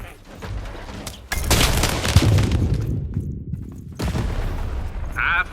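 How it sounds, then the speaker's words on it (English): A cannon fires in the video game Lost in Random: two heavy booming blasts, each followed by a long rumbling roar. Loud and close, with faint game sounds between them. "Shoot the button to fire the cannon"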